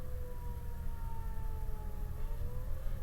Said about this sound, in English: I don't know what any of those sirens are.